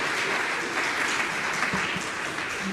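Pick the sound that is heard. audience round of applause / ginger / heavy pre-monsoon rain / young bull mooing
audience round of applause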